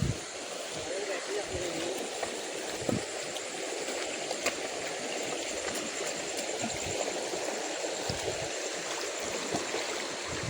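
A strong river rushes in a steady, loud, broadband roar during a night outing to catch crabs, with voices faintly present over the water.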